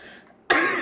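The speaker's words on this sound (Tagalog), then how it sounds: "Ang ubo nyo ay Anli eh." A person coughs sharply and loudly near the mic at a card table during a tongits game, with a quieter stretch of background noise before it.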